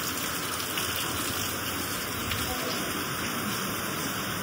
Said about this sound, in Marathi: पाऊस भरपूर आहे मंडळी, तुम्ही बघू शकताय